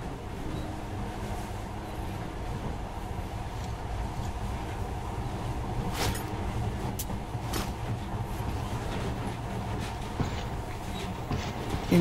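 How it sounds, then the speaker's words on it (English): A monorail train in Metro Last Light runs in a steady, low, continuous rumble with a faint rhythmic clatter and a few brief metallic clicks, and nobody speaks. "In the past, trains were ordinary things, but now, this monorail seems magic, doesn't it?"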